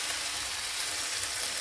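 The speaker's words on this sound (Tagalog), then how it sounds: "Gisa lang natin yan ng ganyan." Leftover fried fish sautéing in a pan with garlic, onion and tomato, a steady close hiss of frying oil with no talk.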